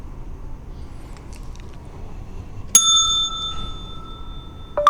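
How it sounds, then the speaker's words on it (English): A bell rung in a county administration building, two sharp metallic dings a couple of seconds apart with a long ringing decay after the first, heard close against a quiet room hum. "I ring the bell every once in a while just to get the attention."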